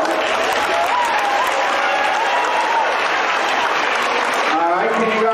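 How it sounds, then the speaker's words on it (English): A school audience claps for kindergartners at an assembly, loud sustained applause with voices and cheering mixed through it, and a brief tonal sound near the end. "give them a big round of applause."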